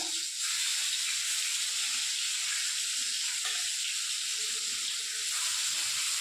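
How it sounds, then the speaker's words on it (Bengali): Fish frying all at once in smoking-hot oil in a wok, a loud, continuous hissing sizzle that holds steady throughout with no talking. "সব মাছগুলো একবারে দিয়ে দিচ্ছি।"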